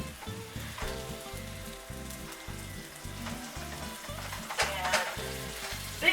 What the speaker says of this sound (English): when you guys are frying up your ground beef